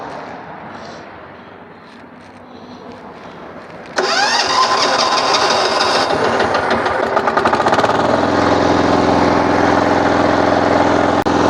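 A Husqvarna TF440 walk-behind tiller engine, decompressor set and a little throttle, fires up abruptly after a quiet stretch, then runs loud and close, settling into a steady rough idle.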